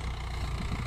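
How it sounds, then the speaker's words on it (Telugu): A Mahindra tractor engine idles with a steady low rumble, fairly quiet and unbroken, with no speech over it. "మా బాబు నడుపుతాడు ఇప్పుడు ట్రాక్టరు"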